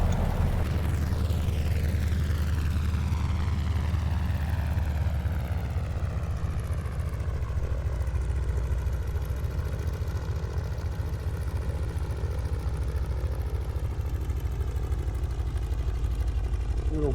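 Twin radial engines of a Beech 18 taxiing in Microsoft Flight Simulator 2020, a steady loud propeller drone with a throbbing low rumble that holds unchanged throughout, without voices.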